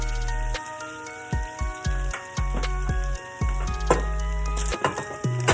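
Ingredients for roasted cauliflower soup sauté in a hot pan, a close, continuous sizzle broken by several sharp stirring knocks and scrapes.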